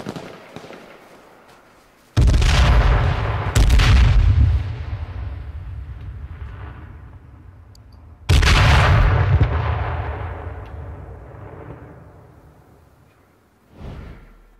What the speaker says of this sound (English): You throwing smoke grenades and stuff over there?